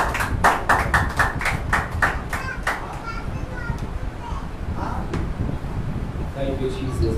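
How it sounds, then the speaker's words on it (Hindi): A church audience breaks into scattered rhythmic clapping to welcome a preacher, a burst of claps at the start that thins out, with children's chatter and voices throughout. "आइए जोरदार ताली परमेश्वर दास की"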